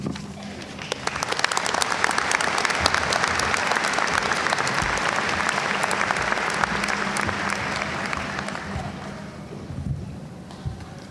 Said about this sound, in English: on behalf of everyone here today, we applaud your success